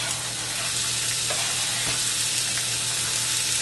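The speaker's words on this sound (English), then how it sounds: "just going to put in a tablespoon or 2 of olive oil and saute up" Vegetables sauté in olive oil in a pan, a steady close sizzle and hiss running the whole time with a few faint clicks of a spoon, and no talking.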